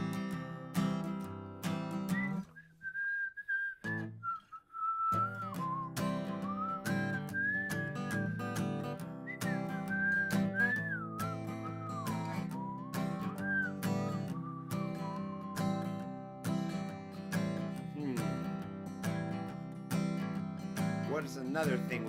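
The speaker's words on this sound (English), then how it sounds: "You whistle a while and I'll whistle a while in warmer wintry weather" Several people whistle a tune together at a community performance, a clear, sustained melody with sliding pitches that carries on over a steady musical backing, with a short pause early on before the tune resumes.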